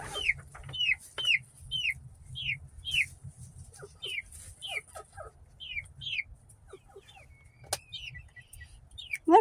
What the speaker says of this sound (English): I think we got us a rooster.